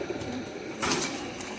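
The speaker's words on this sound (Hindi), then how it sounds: "बहुत आला कबूतर" A pigeon of the Ambarsare breed coos softly nearby, a brief low call with a slightly louder burst midway.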